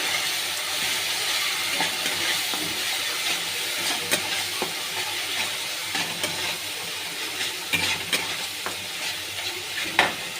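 Ground spices (turmeric and chilli powder) frying in oil in a pan for a bhola fish curry, giving a steady broadband sizzle with scattered scraping stirs and clicks of a spoon, fairly close, with no talk.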